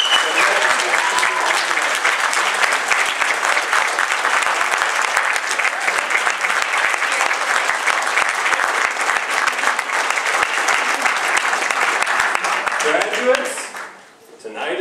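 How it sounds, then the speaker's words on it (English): A graduation ceremony audience at Globe University in Madison gives a long, dense wall of applause that holds steady for many seconds before fading out at the end. "give a round of applause to your family and friends for their encouragement and help"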